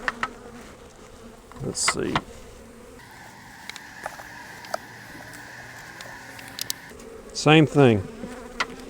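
Honey bees buzz around an open hive during a beekeeping inspection of a colony with a drone-laying queen, a steady close hum with louder bursts of bees flying past the microphone near the end, while a person speaks briefly.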